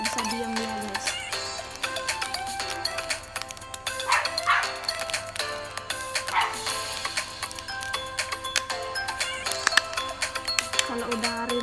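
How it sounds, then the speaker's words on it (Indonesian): Four dogs at home barking repeatedly in bursts, yipping and whimpering, close by and moderately loud, mixed with people talking in the background. "Terus di sini ada anjing juga, anjingnya 4. Dia menggonggong terus, nggak bisa diam dia guys."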